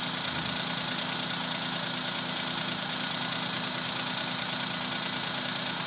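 Suzuki Alto car engine idling after throttle body cleaning, a steady continuous hum with a faint knocking pulse, heard close and loud throughout with no talk.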